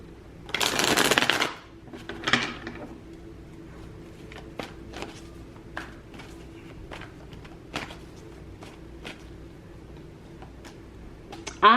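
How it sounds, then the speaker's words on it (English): Oracle cards are shuffled in a loud papery riffling burst near the start, then a second shorter shuffle, followed by sparse light taps and clicks of cards being handled in a quiet room. "Let's get some oracle cards like we did here."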